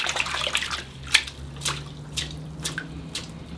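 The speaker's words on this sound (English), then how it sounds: "I've got a bucket of water in the greenhouse here, so I'll just swish that around." Bonsai mulberry roots are swished around in a bucket of water inside a greenhouse, giving close, continuous sloshing with scattered splashes and drips, a few sharper splashy accents rising through the steady watery churn.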